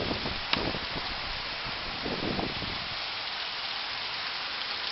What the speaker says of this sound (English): Guess we are starting to get heavy rains.